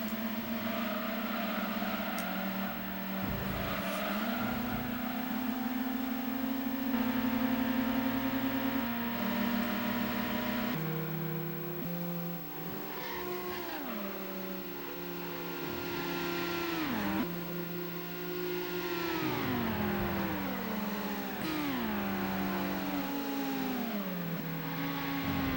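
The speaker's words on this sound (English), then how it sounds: "When you're near other cars, boy, they are really loud." Several racing car engines in Gran Turismo 2 on Trial Mountain whine and rev nearby, pitches climbing and dropping with gear changes as cars jostle close together, continuous and loud.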